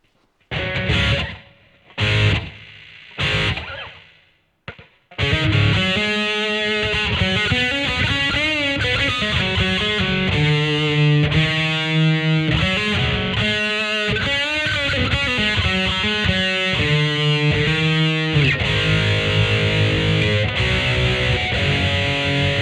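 An electric guitar through a Peavey Vypyr VIP 2 amp with its basic reverb effect plays a few sparse notes, then a sustained strummed passage rings out with lush, lingering reverb tails, loud and upfront.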